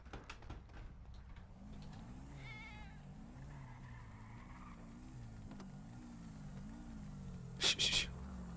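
A cat gives a few faint, wavering meows over a constant low, rumbling hum, ending with a brief, sharp burst of noise.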